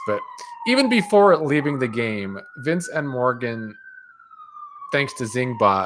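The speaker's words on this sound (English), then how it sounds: "sorry about the damn sirens" A wailing siren sweeps slowly in pitch behind continuous talking, steady and fairly loud throughout, fading slightly toward the end.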